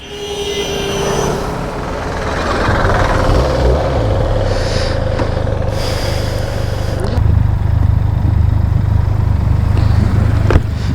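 A Benelli TRK 502 motorcycle engine revs and pulls away on the road, a loud steady drone that builds and then holds under wind rush for the whole stretch, with no talking.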